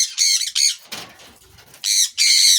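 Budgerigars squawk loudly in bursts close by at a budgerigar colony on a farm, with a short rustling pause in the middle.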